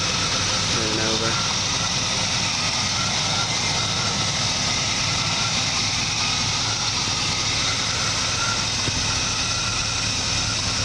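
A 1962 Chevrolet Impala V8 engine idles in a steady low rumble close by, continuous and even throughout, with someone talking over it.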